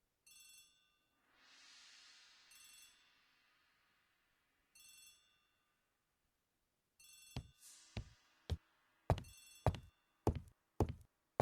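A telephone rings in a hallway in the video game Agatha Christie: The ABC Murders, sounding in short repeated bursts of ringing, followed by a run of sharp knocks near the end.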